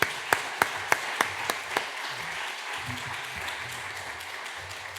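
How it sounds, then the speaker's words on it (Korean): Several people clap to welcome a missionary back from Ukraine at a Korean church evening service, starting with six crisp, evenly spaced claps that fade into a softer spread of scattered applause. "우리 박수로 환영하겠습니다"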